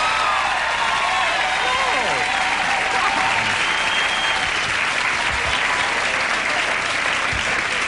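Sustained studio audience applause fills the room on a 1993 late-night talk show, loud and steady clapping with scattered cheers that continues for the whole stretch, with a voice speaking faintly beneath it.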